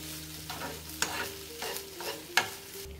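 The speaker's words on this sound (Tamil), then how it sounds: "நல்லா மிக்ஸ் பண்ணிக்கலாம்." Banana stem salad being stirred and mixed in a pan, a steady scraping and tossing with a few sharper clinks of the spoon against the metal, close and fairly quiet, no voices.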